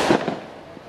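An Easter rocket firecracker goes off on Chios island, Greece: one sharp, loud bang at the start, then a quick decaying crackle and echo over less than a second, with no voices.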